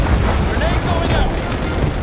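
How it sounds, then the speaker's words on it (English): A grenade detonates in the sci-fi shooter game Starship Troopers: Extermination, a loud, deep, rumbling blast that rolls on for about two seconds with voices in the mix. "Grenade going out."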